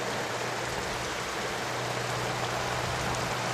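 Rain falls in a steady, dense hiss that carries on without a break, with a faint low hum under it and no voices.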